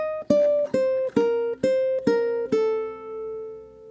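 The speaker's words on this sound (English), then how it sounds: "Bar 3 is going to be a walk down all on the first string." Ukulele playing a descending line of plucked eighth notes on the first string in a flamenco piece, six clear notes in steady rhythm, the last left ringing out, close and alone.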